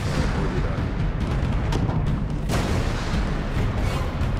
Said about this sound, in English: Shoot the mine as it goes past.